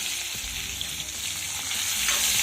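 Tomato fries in a spiced oil tempering for dal, seasoned with a little turmeric and salt, giving a loud, continuous, close sizzle that swells slightly toward the end.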